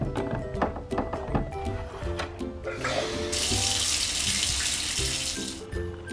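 Water running from a tap to fill a toy baby's bath, a steady rushing hiss that swells louder partway through amid light clatter and handling noises.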